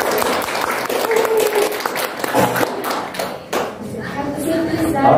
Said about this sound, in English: Let's have a round of applause for our guest today.